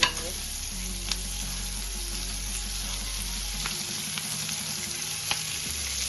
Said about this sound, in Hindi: उसमें इस प्याज को हम हल्का हल्का भून लेंगे।